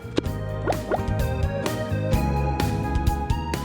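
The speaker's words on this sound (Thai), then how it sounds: "น้ำแกงเดือดแล้วนะครับคุณผู้ชมเราใส่อาหารทะเลกันไปเลยครับ" Seafood dropped into boiling Thai tom kha soup broth, with several wet plops and splashes over a steady bubbling simmer, close and fairly loud, and no talking.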